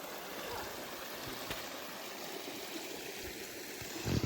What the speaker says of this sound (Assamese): এইপিনে দেখিছে নদীখন এইটো ছাইডৰ পৰা বৈ আহিছে, এটা খলখলনি মাত পানীয়ৰ।